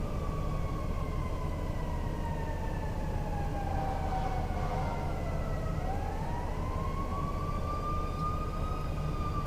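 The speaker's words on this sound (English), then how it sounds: "that's a fire truck" A fire truck siren wails in the distance during a delivery ride-along, its rising and falling tone sweeping over a constant low rumble of road and engine noise, without any talk.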